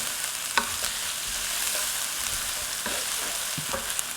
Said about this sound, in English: we're just going to cook this until the onions become a little translucent